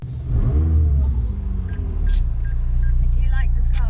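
Ferrari 812 Superfast V12 at full throttle on a track, a loud sustained roar with rising revs heard from inside the cabin, people talking over it.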